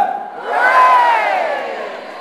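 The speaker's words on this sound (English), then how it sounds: "A cheer for Lord Tom, hip hip!" A group roars a drawn-out "hooray" together at a celebration, the loud mass of voices swelling after a brief start and holding for about two seconds.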